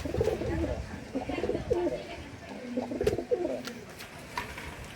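A pair of Giribaz pigeons coo in low, bubbling phrases up close, repeating in uneven bursts over a light room background.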